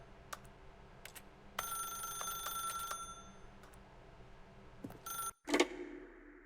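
A telephone rings in The Stanley Parable Ultra Deluxe video game, a short burst of rapid bell trills after scattered clicks, followed by a brief clatter as the receiver is picked up, faint and alone.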